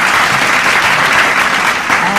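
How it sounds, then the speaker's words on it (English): Applause for a team at a secondary school debate competition, a brief, steady burst of close, bright clapping from a crowd in a hall. "Applaud. You can clap for yourself."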